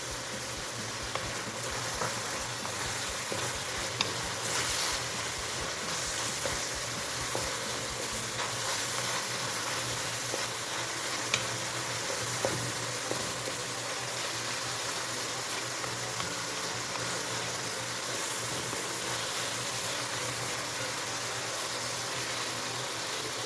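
Garlic frying in a pan of hot oil while lagman is cooked, a steady close sizzle with occasional stirring scrapes, continuous for the whole stretch with no talking.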